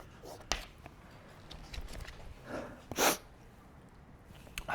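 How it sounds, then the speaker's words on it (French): One short, sharp sneeze bursts out in a quiet lecture room, set among soft breaths and small scattered noises. "je vais éternuer, pardon"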